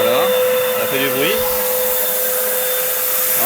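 A Bosch PFS 105 paint sprayer running at full power, a loud steady vacuum-like whine with a constant tonal hum and a brief rising and falling pitch near the start.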